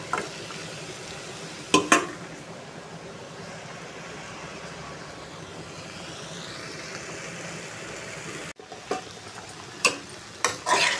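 Turmeric- and salt-seasoned mixture sautéing in a pan with a steady soft sizzle throughout, punctuated by a few sharp scraping stirs and a brief break near the end.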